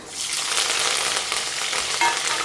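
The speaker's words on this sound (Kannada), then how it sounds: "ಇವಾಗ ಸ್ವಲ್ಪ ಮೀಡಿಯಮ್ ಊರಿ ಮಾಡಿಕೊಂಡು ಸ್ವಲ್ಪ ಚೆನ್ನಾಗಿ ಫ್ರೈ ಮಾಡ್ಕೋಬೇಕು" Green chillies and curry leaves frying in a pan over medium heat, a steady loud sizzle with no break, alone and close.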